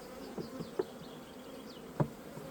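Honeybees buzz around an open hive during an inspection, a soft steady hum with a few brief louder passes as individual bees fly close by, no talking.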